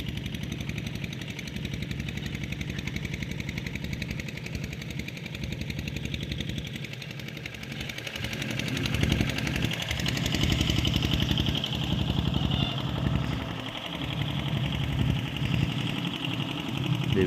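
A tractor engine idles steadily close by at a groundwater well-drilling site, a continuous low rumbling drone that runs without pause for the whole stretch, with slight shifts in intensity and no talk over it.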